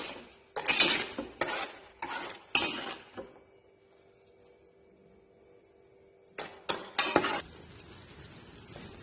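Mixed fruit pulp and sugar being stirred in a cooking pot for jam, with bursts of spoon scraping and clatter against the metal, then a quiet pause before the stirring resumes, close and alone.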